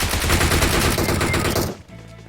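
Dense automatic gunfire from PUBG Mobile rattles loud and continuous for nearly two seconds, then cuts off into quieter game background.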